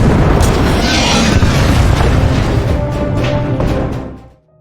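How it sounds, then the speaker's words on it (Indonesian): Soviet artillery firing on German positions in a war film: heavy, continuous booming and rumbling explosions that stay loud and dense throughout before cutting off abruptly at the end. "Setelah mendapat titik koordinat pasukan Jerman, Uni Soviet mulai menembakkan artilerinya."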